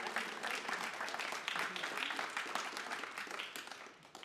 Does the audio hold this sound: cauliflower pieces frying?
no